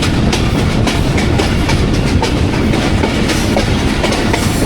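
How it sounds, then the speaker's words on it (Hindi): Jaffar Express rolling slowly on the railway track between Attock City Junction and Rawalpindi, a steady loud rumble with a rhythmic clickety-clack of wheels over rail joints, heard from on board. "ट्रेन अभी भी अपनी जो बुक स्पीड है उससे स्लो स्पीड में चल रही है।"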